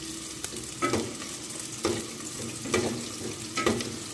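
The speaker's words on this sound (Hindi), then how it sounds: "अब प्याज को हमने ब्राउन करना है" Onions browning in a frying pan for a moong masoor dal, sizzling steadily, with about four sharper scraping stirs at regular intervals, close by and with no talk.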